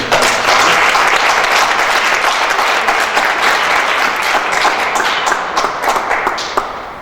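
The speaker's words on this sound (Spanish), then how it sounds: "un aplauso para nuestros invitados." An audience applauds its invited guests at a cultural talk on political song at the IPN, loud, dense clapping that stays steady throughout and starts to thin only near the end.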